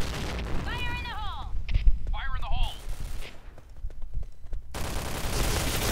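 Rapid gunfire from the online shooter game Point Blank, including a K2 rifle, crackles in loud bursts with brief gaps while a player talks excitedly over the shooting.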